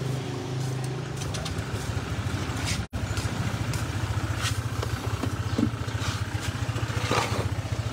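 A scooter engine, freshly fitted with a new battery, idles steadily up close in a repair shop, an even, continuous putter with one momentary cut just before the three-second mark.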